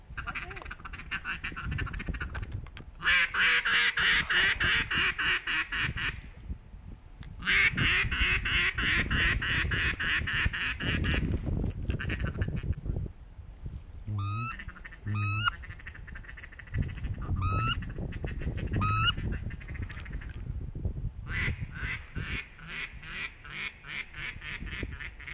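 Mallard ducks quack in repeated loud bursts during a duck hunt before a snow storm, with stretches of wind and rustle between the calls and a few faint human voices.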